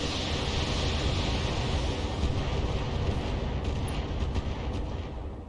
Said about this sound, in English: It's just lots of missiles.